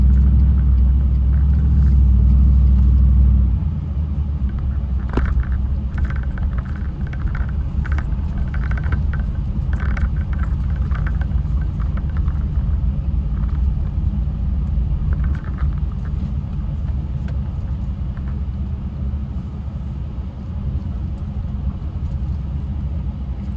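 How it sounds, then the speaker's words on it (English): A vehicle towing a trailer drives along with a continuous low engine and road rumble, loud and steady throughout, with faint rattles and knocks above it. "I'm getting the hang of just towing a trailer"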